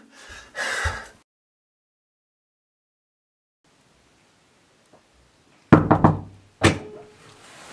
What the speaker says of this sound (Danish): politiet banker på